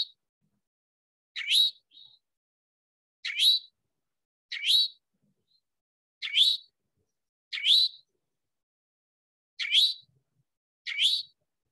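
A bird's call repeats seven times, each a short, sharp, high-pitched note with a quick downward slur, spaced by brief silences and heard clearly with no background.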